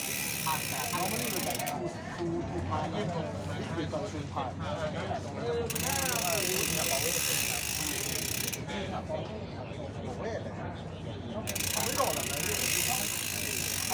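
A bicycle freewheel buzzes with fast clicking in bursts that start and stop, with someone talking between the spins.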